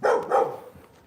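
A dog at a tea farm in China gives two quick, loud barks close by, the second trailing off into quieter yips.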